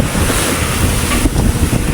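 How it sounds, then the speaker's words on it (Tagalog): Strong southwest monsoon wind gusts roar steadily across the sea, with surf washing beneath and constant buffeting on the microphone throughout, loud and close, with no voices. "malakas ang hangin, malakas ang hanging habagat"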